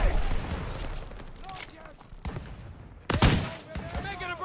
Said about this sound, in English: Suppressive fire! Keep firing!